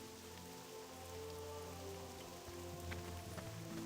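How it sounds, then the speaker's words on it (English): Steady, dense patter of rain falling in a video game, a constant loud hiss of drops on surfaces with no pauses, accompanied by a faint low hum underneath. "Why is the rain so loud all the time?"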